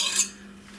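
A utensil scrapes and clinks against a bowl while cutting up ingredients for a no-bake piña colada cheesecake. The single short, bright scrape fades into a quiet hum, with no talking.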